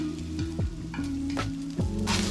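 Garlic and red onions sauté in oil in a pan over medium heat, a steady sizzle broken by scraping stirs every half second or so, close and fairly loud, with no voices.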